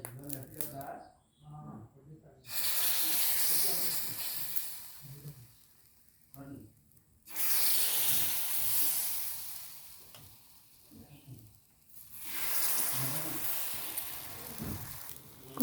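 Thin batter of flour, salt and cumin sizzles on a hot griddle in several loud hissing bursts. Quieter gaps fall between them, with faint scraping and clattering.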